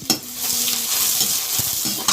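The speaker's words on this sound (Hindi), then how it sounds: "मैं डाल दूँ प्याज और मिर्चा भुजाने के लिए" Chillies and onion sizzling in a kadai, with a loud crackling fry and a few sharp clinks and scrapes of a stirring spoon against the pan, no talk.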